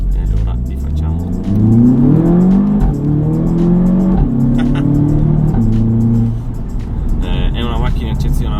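A turbocharged Audi TT mk3 (8S) with a stage 2 tune making 300 hp accelerates hard, its engine note climbing through the revs and shifting, loud and close, while a voice talks over it.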